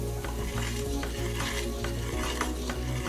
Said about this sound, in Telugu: ఆయిల్ వేడి చేసుకొని పెట్టుకున్నాం కదా, ఇలా మనం వేసుకోవాలి. వేసుకుంటూ కలుపుకోవాలి